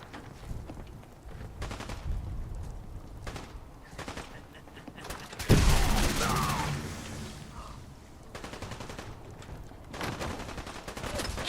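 Gunfire in Fallout 4 crackles in rapid, scattered bursts, then a heavy blast hits near the middle, followed by more repeated shots at mid distance.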